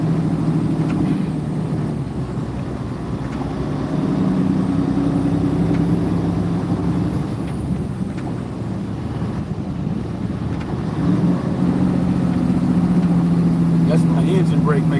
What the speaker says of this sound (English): Engine brake making all that noise.